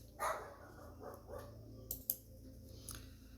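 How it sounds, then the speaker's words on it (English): Dogs barking outdoors in an apartment complex as people walk them past, heard as faint, distant, scattered bursts with no talking. "there was people walking their dogs and the dogs all went crazy"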